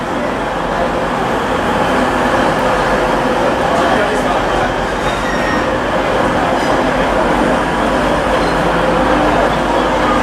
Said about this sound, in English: Transpennine Express service coming in for Liverpool here